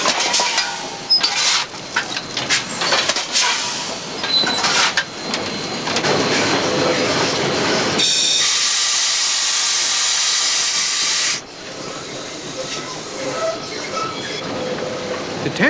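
A fast-moving steam locomotive runs on rails, giving loud clattering wheel noise with rushing hiss and a long, sustained burst of steam. The clatter returns as the train carries on past, close and full.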